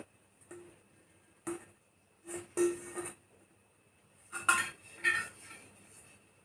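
Brass glasses and brass devi ghot pots clinking and knocking as they are handled, about six short metallic clanks with bright ringing tails, close and separate with quiet pauses between.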